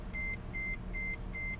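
A warning chime from a cheap, faulty Mercedes car repeats four times as evenly spaced electronic beeps over a low engine idle, with no talking.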